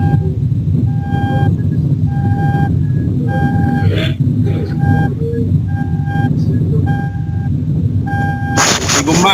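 A car being driven rumbles steadily through an open microphone, a continuous engine and road drone with repeating beeps over it and a voice talking underneath.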